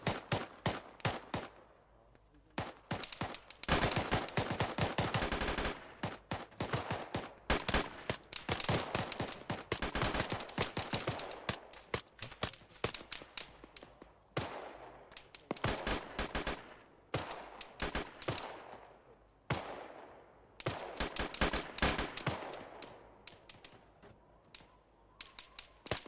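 Gunfire rings out in a military shooter video game, with sharp cracks and rapid bursts repeating irregularly throughout, some loud and close, others thinner and farther off.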